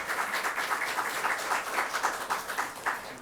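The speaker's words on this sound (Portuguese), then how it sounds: "uma salva de palmas, por gentileza" Audience at a lecture gives a round of applause, a steady patter of many hands clapping at moderate volume for a few seconds.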